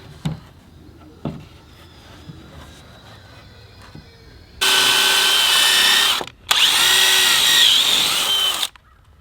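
Power tool driving half-inch bolts into the diagonal braces of a farm shelter, two loud sustained whirring bursts separated by a short pause, preceded by quieter clicks and knocks of handling parts.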